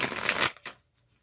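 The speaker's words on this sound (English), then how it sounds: "I keep shuffling until I get the chills" Tarot cards riffle in a brief, close shuffle, a dense papery rush followed by a couple of softer flicks before stopping.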